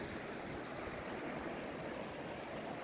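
A clear river flows in an even, broadband rush of water, continuous and steady, with no other sounds standing out.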